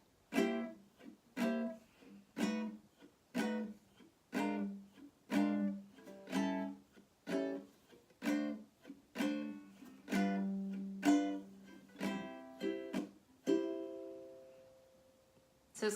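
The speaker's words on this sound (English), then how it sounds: "Here's the simple strum." Simple jazz strum on a stringed instrument, evenly spaced chordal strokes repeating steadily for about thirteen seconds before a final chord rings and fades, heard alone and fairly quiet.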